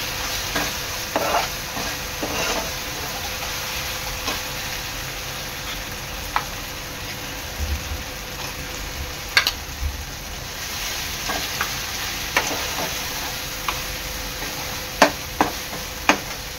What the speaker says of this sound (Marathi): वाटण चांगलं तेलात परतून घेतलेलं आहे.